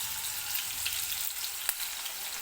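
Finely chopped onion frying in a hot pan gives off a steady, close hiss of sizzling that holds at an even level with no talking.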